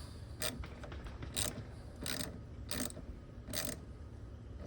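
Ratchet clicking as it snugs a 10 mm bolt on a 1996-2002 Toyota 4Runner during drive belt work, about five short bursts of quick clicks at a steady pace, close and fairly quiet, with no talking.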